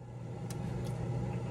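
An oven fan hums steadily at a low level in a home kitchen, a continuous faint drone running alone without speech.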